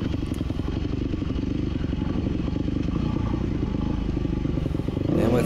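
Off-road motorcycle riding a single track trail on Warner Ridge, a steady close engine drone with clattering and thumps over rough ground, rising slightly at the end.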